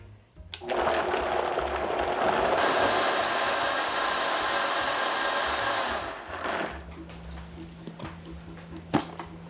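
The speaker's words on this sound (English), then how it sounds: "Now I'm going to puree it in the Vitamix until it turns into a nice," A Vitamix blender purees cooked cranberries into a smooth butter, a loud steady motor roar that whirs up, holds for several seconds, then cuts out to quieter kitchen sounds and a brief clink.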